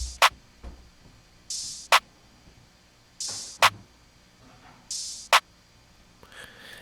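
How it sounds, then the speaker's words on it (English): An open hi-hat sample from a Cymatics Uzi pack, open hi-hat 3, alternates with a sharp clap in a trap beat, each hiss swelling briefly before a crisp clap, repeating three times in a steady loop. "I added this open hi-hat from Cymatics,"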